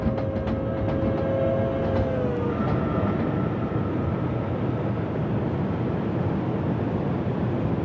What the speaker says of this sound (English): an IC train coming the other way